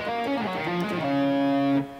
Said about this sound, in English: it's really easy to let your timing fall apart and sound like this